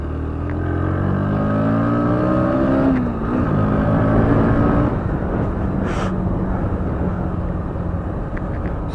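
A 2025 Bajaj Pulsar NS125 125cc motorcycle pulls away in first gear, its engine loud and close, pitch rising steadily, dropping at a shift, then droning on with wind noise.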